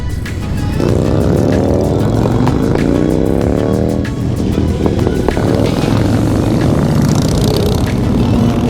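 A 2020 KTM 500 EXC-F dirt bike rides past loudly with a rising and falling four-stroke engine note, revving through gears over a steady roar, with faint voices in the background.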